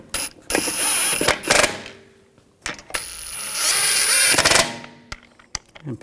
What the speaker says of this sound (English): And put the other lug bolts in. Snug those down.